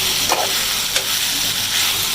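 Okra (bhindi) sizzling in masala in a pan, a continuous close frying hiss broken by a couple of soft stirring scrapes.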